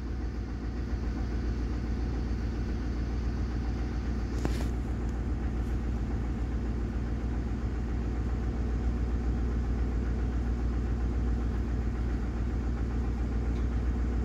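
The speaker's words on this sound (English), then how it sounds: "Engine sounds amazing." After a cold start on 5W-30 synthetic, a Ford 5.4L Triton idles in a steady, close rumble with a faint ticking texture. A single brief click sounds partway through and nobody speaks.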